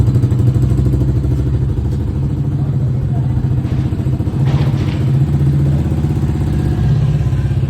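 A motorcycle engine rumbles at idle nearby with a loud, steady low throb, briefly revving in the middle, while people talk over it.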